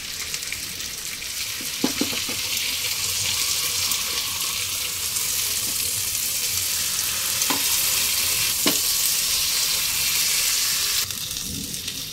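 Tandoori fish fries on a tawa over a gas stove, a dense, even sizzle held close and loud, broken by a few sharp clicks and knocks of utensils.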